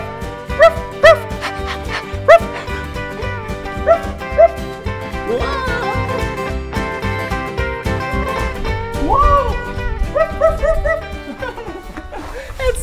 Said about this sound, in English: This is where cow dogs stay.